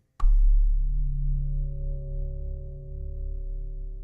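A synthesizer bell tone in Dorian scale, built from wavetable, sampler, FM and subtractive synthesis, strikes once sharply and then rings on as a steady, sustained, harmonically rich chord that slowly softens, with no voices.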